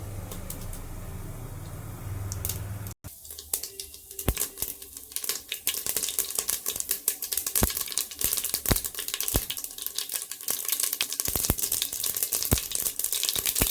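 Mustard and cumin seeds sizzling and popping in hot oil in a pan, a brief muffled hum cut off before a dense, crackling spatter of tiny pops fills the rest, steady and close.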